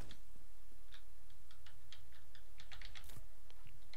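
Computer keyboard keys pressed during PC play of the shooter F.E.A.R., a series of faint, irregular clicks and taps over low game ambience, with no voices.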